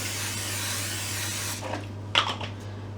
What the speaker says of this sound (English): fry light or whatever low calorie spray you're using